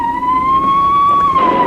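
An ambulance siren wails steadily and loudly nearby, its sustained tone sliding slightly in pitch without any voices.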